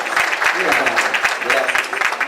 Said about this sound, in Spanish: ¡Fuerte las palmas para ella!